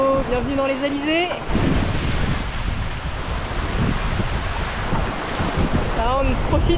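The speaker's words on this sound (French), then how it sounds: "il y a du vent" Wind and ocean waves rush over a sailing race boat running fast in the trade winds toward Saint-Barth, a loud, steady roar of gusts and surf, with brief voices at the start and near the end.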